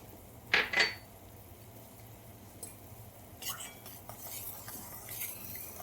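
Sugar syrup for besan laddu being stirred in a pan, starting with two loud metal utensil clinks and followed by quieter, intermittent scraping and stirring.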